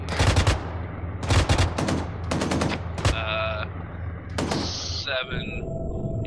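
Bursts of belt-fed Russian .50 calibre machine gun fire in an Arma 3 battle, three or four loud rapid strings separated by short pauses, with voices talking over the gunfire and other combat noise.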